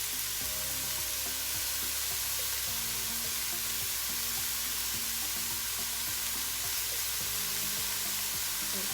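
Mushrooms sizzle and fry steadily in a pan for a toasted mushroom and cheese sandwich, a constant loud hiss with faint low tonal hum and occasional utensil knocks underneath, no talking.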